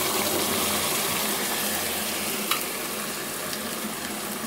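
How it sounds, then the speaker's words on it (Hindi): Blended spinach sizzles loudly and continuously in a frying pan, a dense, hissing bubbling close to the listener, with only a faint click of stirring. "अब हम पालक ऐड करेंगे ब्लेंड की हुई"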